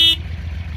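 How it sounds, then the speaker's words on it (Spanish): A Yamaha V Max 1200 motorcycle's horn, mounted low and pointing at the ground, gives one short, sharp beep before cutting off, leaving a low idling engine rumble. "Tiene la bocina acá abajo apuntando al piso."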